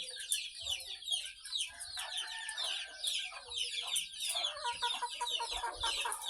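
Chicks and chickens given vitamin-mixed feed at a backyard brooder cluck and peep continuously, a dense overlapping chorus of many birds close by, with no talk.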